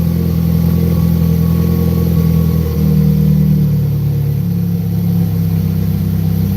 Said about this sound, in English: I don't know if you guys can actually get the full spectrum of how loud this fucking car is right now